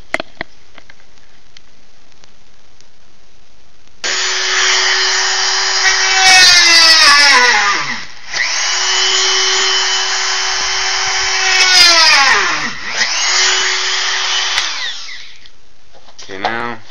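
Power drill driving 3-inch screws into wood shelf supports in a cage, the motor whining loud and close in long steady bursts that strain and slow, with short pauses between runs.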